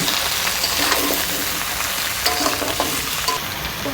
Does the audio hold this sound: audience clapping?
no